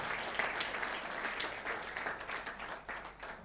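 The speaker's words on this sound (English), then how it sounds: "Oh, you clapped your hands" An audience at a leadership and business summit breaks into applause, a steady, distant patter of many clapping hands that carries on throughout at a moderate level.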